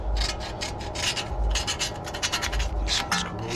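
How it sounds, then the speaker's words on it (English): A screwdriver scrapes corrosion off around the front wheel bearing of a 2011 Audi A4 B8: rapid, harsh rasping strokes in an uneven rhythm, close and loud, with no talk. "Let's clear some of this out with a screwdriver."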